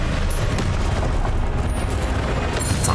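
A Confringo fire spell blasts in Hogwarts Legacy, a dense, continuous booming roar with low rumble and crackle that fills the whole stretch at steady loudness, with no talk.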